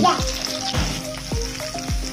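Two tablespoons of margarine melt in a hot pan with a close, crackling sizzle and a few quick scraping stirs, with no speech.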